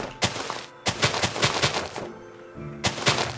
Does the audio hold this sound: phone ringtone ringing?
no